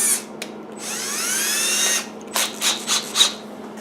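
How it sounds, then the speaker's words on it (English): A power drill with a 3/16 bit, used on a track bike bodywork build, whines up to speed in one sustained run, then fires several short, sharp bursts, loud and close. "3/16 drill bit"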